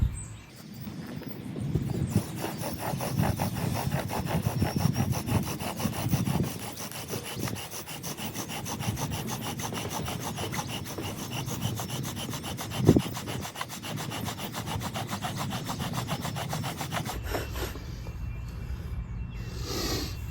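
Bow drill spindle rubbing against wet wood under a fatwood bearing block: a steady rhythmic rasping that rises and falls with each back-and-forth stroke, close and continuous for about seventeen seconds before stopping.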